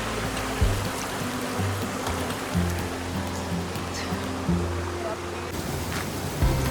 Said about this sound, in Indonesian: ini adalah sumber mata air terakhir di jalur ke Kawah Ratu.